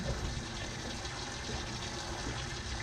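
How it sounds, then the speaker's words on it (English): A fishing boat's live well pump on Mark Twain Lake circulates water in a steady, close, rushing gurgle that stays even throughout, with no voices. "the live well's probably loud"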